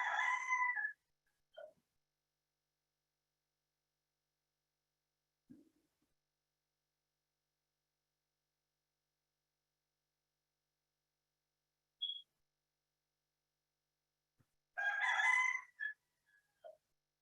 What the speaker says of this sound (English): So my chickens will keep you company as you are reflecting on these questions.